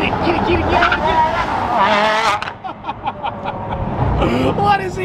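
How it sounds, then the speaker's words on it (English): Bugatti Chiron with a quad-turbo engine revving loudly on a New York City street, the engine note rising and falling under excited talk nearby. "Bro, four turbos and a Chiron. Wow, this sound is unreal."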